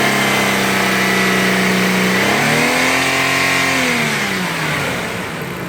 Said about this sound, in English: I'm going to bring the RPM up a little bit to clear the engine out.